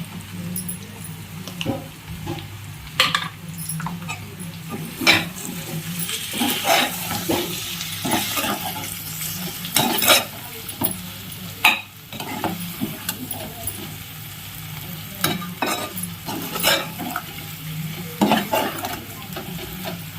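Blood fry with coriander and mint sizzles steadily in a pan, with frequent scraping and clattering of a spoon stirring it close by.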